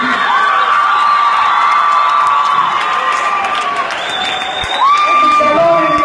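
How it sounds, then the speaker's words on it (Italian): A large crowd at a live concert in the Palapartenope arena cheers and applauds loudly and continuously, with whoops and shouting blended in and sustained tones from the stage audible above the roar. "Applauso arriva spontaneo, sì?"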